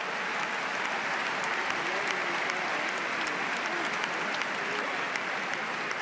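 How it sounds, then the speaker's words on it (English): Tennis crowd on Court Philippe Chatrier at Roland-Garros applauding steadily after a long rally in a Zverev versus Nadal first-round match, a dense, sustained wall of clapping throughout. "the court, Philippe Chatrier crowd appreciating what they just saw from Zverev"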